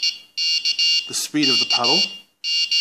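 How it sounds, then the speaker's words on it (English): Steady electronic buzzer tone from a homemade touch-sensitive Morse CW paddle wired to an Arduino shield, keyed in a series of short and long beeps, with someone talking over the middle part. "It's got a little buzzer on the shield there that I've built."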